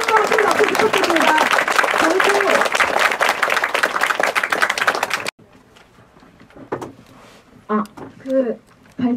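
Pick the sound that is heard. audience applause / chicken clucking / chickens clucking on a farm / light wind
audience applause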